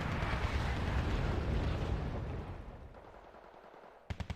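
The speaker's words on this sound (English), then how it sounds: "Mortars are a little off target, but otherwise alright" Mortar fire in the Wargame Red Dragon battle game, a dense rumbling roll of blasts and crackling impacts that fades, followed by a few sharp distant bangs.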